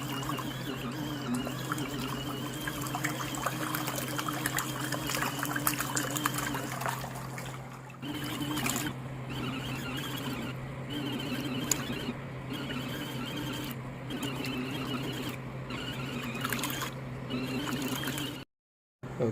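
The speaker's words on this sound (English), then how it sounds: "Okay, the 15-minute rinse just finished." A portable washing machine runs its rinse cycle, with water steadily trickling and sloshing over a constant low motor hum. The sound dips briefly partway through, then carries on evenly, with no one talking.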